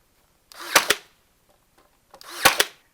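Two sharp pneumatic bursts from an 18 gauge air nail gun driving 1¼ inch nails into glued wood for rustic furniture, each a close, hissing double snap, spaced about two seconds apart.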